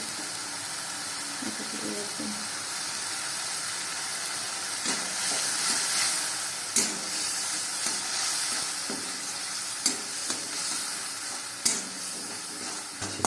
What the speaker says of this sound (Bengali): এটা ভালো করে আমি এবার মিক্স করে দিচ্ছি, নাড়িয়ে দিচ্ছি